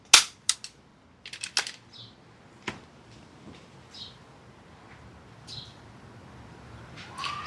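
Sharp clicks of an air-powered double-barrel shotgun's firing pins snapping forward on both barrels at once, a loud near snap followed by a few lighter mechanical clicks and rattles in a quiet outdoor setting.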